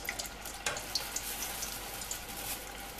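Pieces of bread murukku dough frying in hot oil give a soft, continuous hissing sizzle with a few light pops, fairly quiet and heard alone.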